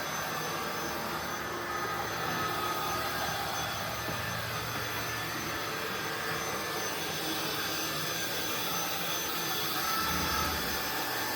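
INSE V120 cordless vacuum cleaner running continuously at steady power, a loud, even whine with a broad airy rush, close up and uninterrupted, with no talking.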